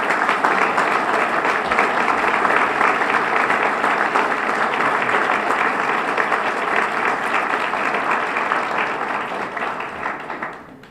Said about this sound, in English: I'd like to offer them a round of applause,